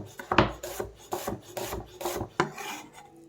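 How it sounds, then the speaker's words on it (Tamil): Onions being sliced into small pieces with a knife on a wooden cutting board for onion vada: a close, steady series of rasping strokes, each with a soft thud as the blade reaches the board, and no voices. "ஆனியன் வந்துட்டு குட்டி குட்டியாக ஸ்லைஸ் பண்ணி எடுத்துக்கணும்."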